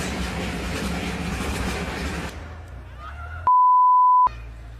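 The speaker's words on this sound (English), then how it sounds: "That's a train." A train passes close by with a loud, steady rumble that cuts off abruptly and is followed by near silence and a sharp, sustained electronic beep.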